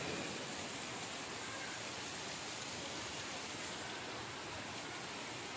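Heavy rain mixed with hail pours down in Konkan, a dense, steady hiss that stays loud and even from start to finish with no voices.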